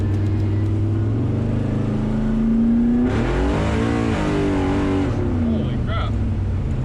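A 1972 Camaro accelerating hard on a city street, its engine climbing loud and close in a long, rising roar, with people talking in the car over it.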